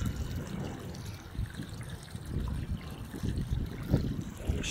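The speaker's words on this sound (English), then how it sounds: "we're filling the pool now" Water runs and gurgles steadily into a swimming pool at low volume, a soft continuous trickle and splash with no voices.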